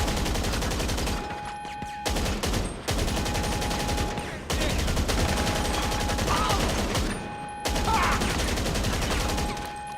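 A full magazine is emptied in GTA 5 Online, making long bursts of rapid automatic gunfire that come loud and close in several sustained volleys with short gaps between them.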